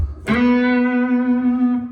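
An electric guitar plays a single sustained note with the warm, smooth, saturated woman tone, its attack sharp and the note ringing evenly and steadily to the end.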